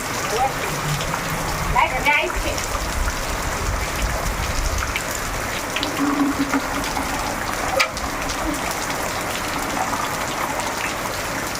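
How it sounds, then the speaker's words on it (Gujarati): Heavy rain pours down steadily in Nekur village, Kankrej taluka, Gujarat, in a dense broadband hiss, with a voice or two faintly audible underneath and a sharp knock near the end. "જોરદાર વરસાદ પડે છે"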